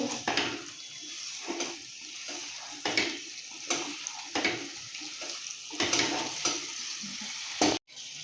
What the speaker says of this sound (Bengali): আলুগুলো দিয়ে একটু নাড়াচাড়া করে দেব